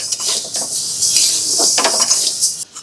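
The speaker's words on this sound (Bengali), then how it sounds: "ধীরে ধীরে একটু নাড়াচাড়া করে নেবেন।" Mung dal is stirred in a karahi over a low gas flame, making a steady dry, gritty rustle with repeated scraping and light metallic clinks of the utensil throughout.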